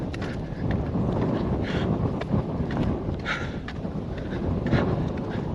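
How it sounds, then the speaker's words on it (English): Outdoor breeze blowing across the microphone during a long walk, a continuous broadband rush with gusty swells and no talk. "Plus this breeze right now"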